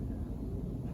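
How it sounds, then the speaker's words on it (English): African lion roaring from a played biology podcast recording, a deep continuous low rumble filling the short moment at moderate volume with no talk. "That deep-throated rumble, as you probably can tell, is the calling card of the African lion."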